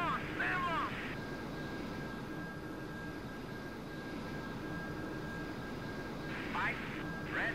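Jet fighter engine with afterburners in the Strike Fighters 2: Vietnam flight game, a steady broad roar that runs the whole time, with brief higher warning-like chirps near the start and end.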